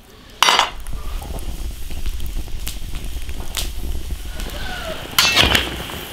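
Lamb spine stir-fried with ginger and cooking wine in a large iron wok, a spatula striking and scraping the metal in sharp clanks at the start and end over a continuous low sizzle.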